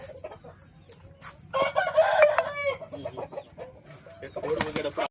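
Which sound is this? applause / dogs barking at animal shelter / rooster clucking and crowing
rooster clucking and crowing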